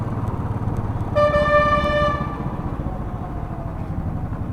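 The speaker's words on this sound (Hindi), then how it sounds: "इनके सुबह सुबह ही हॉर्न शुरू हो जाते हैं यार," A vehicle horn blares once in a long steady honk lasting about a second, over a continuous rumble of nearby morning street traffic in Vrindavan, India.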